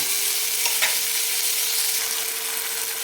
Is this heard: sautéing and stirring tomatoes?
yes